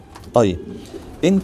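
Pigeons, French meat-breed birds, give two short cooing calls about a second apart, close and clear, with someone speaking briefly between them.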